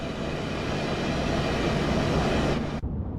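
Southeastern high-speed train in Train Sim World 3, a steady rushing roar of rolling stock and wheels on track, loud and continuous for about three seconds before cutting off sharply to silence.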